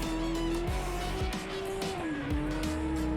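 A race car in the video game Project Cars 3 is driven hard, with a loud, sustained engine whine whose pitch rises and dips, broken by short bursts of tire squeal and skidding.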